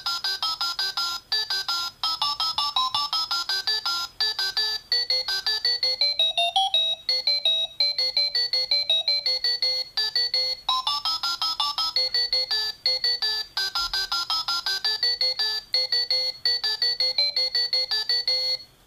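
A Haptime YGH-335 device beeps out an electronic melody in fast, evenly pulsed tones, loud and continuous, with brief pauses between phrases and no talking.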